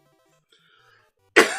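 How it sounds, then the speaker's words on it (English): A single loud, harsh cough bursts out close to the microphone after a near-silent stretch with faint background murmur. "I didn't mean to cough all in your ear like that"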